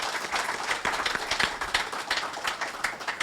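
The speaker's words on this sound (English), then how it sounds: "Could we give them a round of applause?" A small audience claps in sparse, moderately loud applause at the opening of a hospital oncology unit in St. Kitts, the individual hand claps distinct and sustained for a few seconds.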